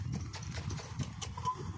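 A horse's hooves clip-clop steadily as it pulls a buggy through a village, a close, continuous rhythm of hoof strikes over a low rumble.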